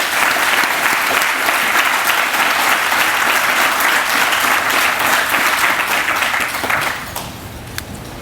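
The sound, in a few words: audience applause at a groundbreaking ceremony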